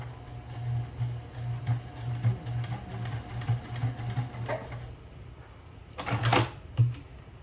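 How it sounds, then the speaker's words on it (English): A sewing machine runs a straight stitch across the tabs of a fabric shoulder bag, with a steady rhythmic whir through most of the stretch, then a pause and a brief final run, close by and without talk. "now we're going to take it to the sewing machine, and then we're going to do a straight stitch across for both of these tabs"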